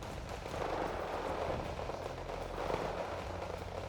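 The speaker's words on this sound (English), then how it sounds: "Airstrikes going in." Dense, continuous rumble of airstrike explosions in the real-time strategy game Wargame Red Dragon, a steady wash of distant blasts and crackle with no distinct single hits and no talk.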